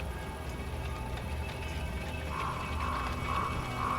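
The Ankou's cart from Breton legend gives a dull, repetitive mechanical creaking and ratcheting, steady and low throughout, with brighter rhythmic squeaks recurring toward the end, heard alone in quiet night air.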